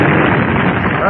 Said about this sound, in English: he dives into the water as the boats collide with a gigantic explosion.